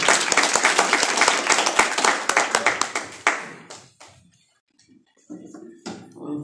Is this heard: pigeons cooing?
no